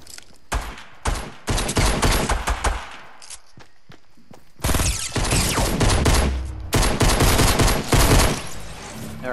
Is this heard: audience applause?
no